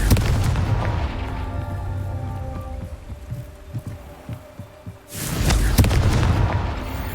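A Confringo fire spell from Hogwarts Legacy bursts into a loud, deep explosion with a rumbling tail after several seconds of quieter rumbles and thuds.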